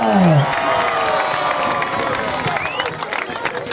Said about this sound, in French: Allez, on applaudit bien fort les jeunes